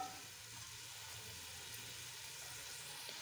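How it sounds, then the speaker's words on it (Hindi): Onions browning in a pan for an aloo-methi sabzi, a soft, steady sizzle of frying throughout, faint and even with no talk. "प्याज हम लोगों ने ब्राउन होने के रख दिए हैं।"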